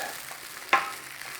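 Lemon aval poha is stirred once in a pan just after the flame is turned off, giving a single brief scrape and sizzle burst near the middle, otherwise quiet with faint background hum.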